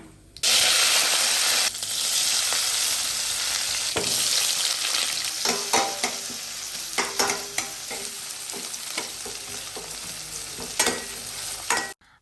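Mustard and fenugreek seeds splutter in hot oil, a loud sizzling hiss peppered with sharp popping crackles that gradually thin out.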